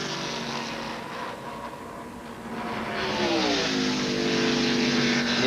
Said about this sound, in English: I'm sure he's hearing every noise that Ford Taurus is making.